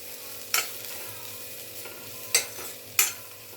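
Bitter gourd (karela) bhaji is stirred in a pan over steady frying sizzle, with three distinct spatula scrapes spaced apart, close and clear.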